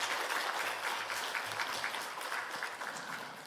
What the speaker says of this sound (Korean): 박수로 같이 축하해 주십시오.